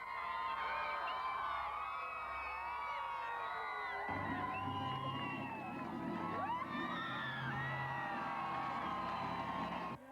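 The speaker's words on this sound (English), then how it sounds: "Her roar matched by the crowd." A large crowd roaring and cheering at the Sydney Olympics torch relay, a dense sustained wall of whoops, yells and shouts, loud and continuous, swelling further partway through.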